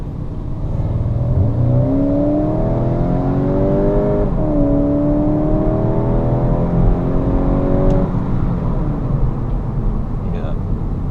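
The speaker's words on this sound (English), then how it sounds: "the only sound you get to hear inside the car in sport mode is something that's playing back through the speaker" Inside a Skoda Octavia RS245 in sport mode, a synthetic engine note played through the car speakers rises in pitch as the car accelerates, shifts gear and climbs again, with road noise underneath and a voice talking over it.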